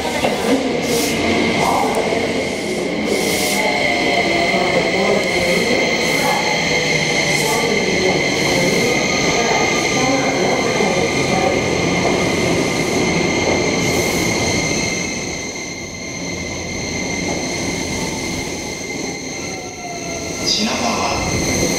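An E261 Saphir Odoriko limited express train rolls into Shinagawa Station with a steady rumble, squealing wheels and a long fading hiss, while a Japanese public announcement voice plays over the platform.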